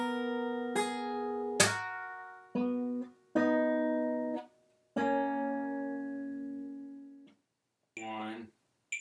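Fingerstyle acoustic guitar picks a song's intro riff, single plucked notes and short ringing phrases separated by brief silences, close and clear, ending with a faint snippet of a voice.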